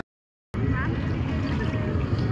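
Boat ride on the water at a river ghat, a steady broadband wash of water and engine or wind noise filling the clip after a short silent start, with faint voices underneath.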